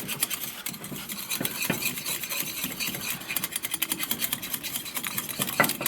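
A flour paste, cooked like a gravy base for clay paint, is stirred in a pot over low heat: steady scraping and swishing with occasional sharper utensil knocks against the pot, close and continuous, no voices.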